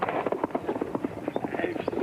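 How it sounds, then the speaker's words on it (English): Horse galloping toward a jump at a 1981 show jumping event, with steady rapid hoofbeats throughout, close and clear, while a commentator speaks over them. "Swings wide, now brings the horse straight on, so there's no chance of him running off."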